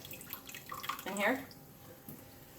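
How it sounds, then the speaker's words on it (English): A Norwex cloth is filled with running water and wrung out, giving a brief splashing and dripping burst near the middle, with a person speaking briefly over it. "I'm just going to get this full of water and then wring it out"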